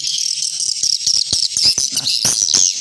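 A swiftlet house speaker plays the swiftlet 'tarik' lure call as a loud, close, steady high-pitched chirping buzz with rapid rattling clicks and chirps layered over it.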